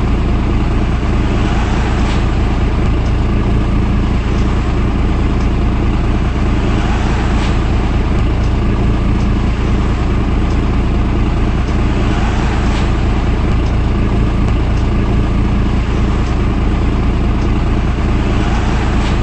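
A bus engine idles with a steady, loud low rumble and drone that holds constant throughout, with faint periodic rattles over it and no talking.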